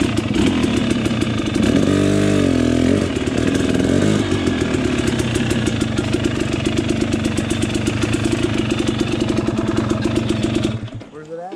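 An off-road vehicle engine runs loud and close for the whole stretch, a steady rattling drone that briefly surges in pitch before settling back to a rough, even idle, then cuts away at the end.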